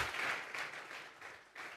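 Church congregation applauding during a Sunday service, a soft, brief patter of clapping from a crowd, fading slightly toward the end.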